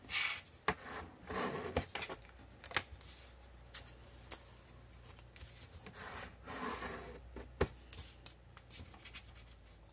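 Paper pouch being creased by hand, with soft rubbing and sliding strokes punctuated by sharp taps and crisp presses as folds are flattened, quiet and close with no speech.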